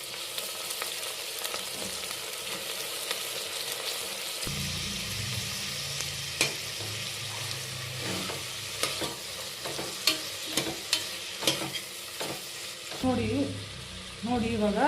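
Soaked green peas tipped into a hot pan for peas pulao and stirred, giving a steady sizzle with repeated scraping and clacking strokes, growing louder and busier toward the end.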